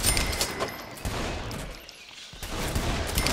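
Rapid gunfire in Saints Row: The Third, bursts of overlapping shots crackling loudly in quick succession with a brief lull near the middle before the shooting picks up again.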